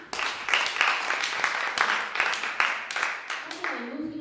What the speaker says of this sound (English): another quick applause for Meet Berlaffe